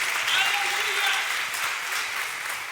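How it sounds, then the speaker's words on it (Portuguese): A church congregation applauds at a Portuguese-language worship service, a steady, dense wash of clapping filling the whole stretch without pause. "Dá uma salva de palmas ao Senhor."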